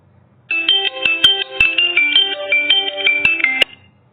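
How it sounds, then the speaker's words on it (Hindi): A phone ringtone plays a bright, melodic electronic tune for about three seconds, loud and close, starting and stopping abruptly against near silence. "माफ करना ये बार बार फोन आ रहा है।"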